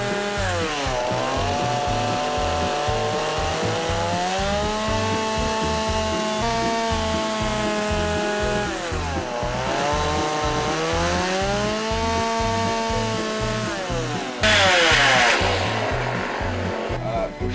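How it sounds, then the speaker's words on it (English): A loud chainsaw runs continuously, its engine pitch rising and dipping as it carves a bear into a wooden log, with a sharper burst near the end. "Start the chainsaw and forget you can't hear over that."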